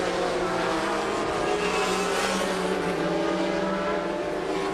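A Courage sports prototype with a Peugeot 3.2 litre turbo engine racing at Magny-Cours, a dense sustained engine howl holding steady at high revs, loud and continuous without speech.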